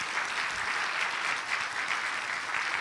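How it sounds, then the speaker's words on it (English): An audience applauds Karen Anderson at a church service, a steady, even wash of clapping from many hands that fills the room without a break. "Would you stand and let us give you a round of applause, please?"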